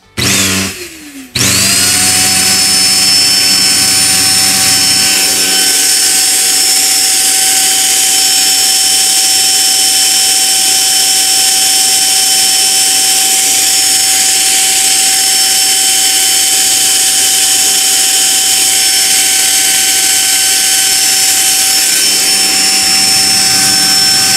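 A loud, steady whine of a Deerma EX919 dust mite vacuum cleaner motor starts abruptly and runs continuously at an even pitch, close by, with no voices.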